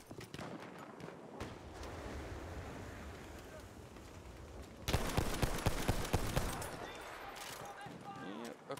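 Burst of shotgun gunfire in a video game erupts midway as a cluster of sharp, closely spaced blasts over a windy, watery background rumble.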